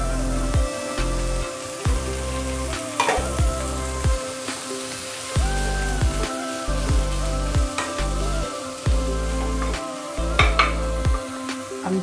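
Potatoes for a samosa filling sizzle and fry in a pan with peas, with steady crackling and repeated scraping stir strokes throughout, close and moderately loud, no voices.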